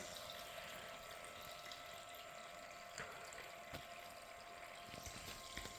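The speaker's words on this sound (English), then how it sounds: "As you can see, the water from this tank is getting supplied" Water runs steadily from a tank through the ICU Guardian fluid and vital sign manager demonstration rig, a quiet, even faucet-like flow that continues unbroken with no voices.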